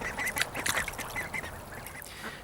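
Ducklings quacking steadily in a busy overlapping chorus of short, nasal calls, close by and continuous.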